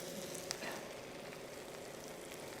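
Green chilies fry in a pan of oil for a Chettinad chicken kurma, giving a steady close sizzle throughout with a faint clink near the start.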